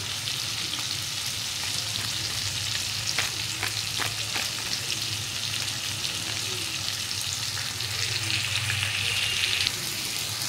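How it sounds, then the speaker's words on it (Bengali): Spices and chili powder sautéing in a pan give a continuous close frying hiss with occasional stirring scrapes and clicks, steady throughout with no talk. "মশলা কষানো হয়ে গেছে"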